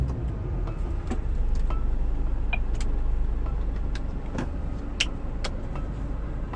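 A car stuck at night idles and strains with a low, steady engine drone, while scattered clicks and knocks cut through at close range; no sharp revving rises above the rumble.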